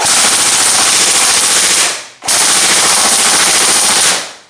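Sustained rapid bursts of JG Steyr (JG0448A) airsoft rifle fire on full auto, loud and close, with a brief pause in the middle before another long burst.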